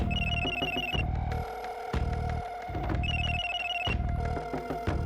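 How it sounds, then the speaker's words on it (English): A telephone ringtone plays in repeated electronic bursts, a short melodic pattern cycling with brief gaps, steady and fairly loud with no voices. "Then she heard a ringing on the other line."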